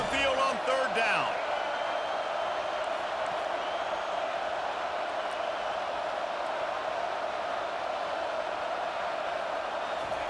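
Home crowd in EA Sports College Football 25 roars steadily as the defense tries to get off the field on third down, a dense continuous stadium noise with a brief louder swell at the start.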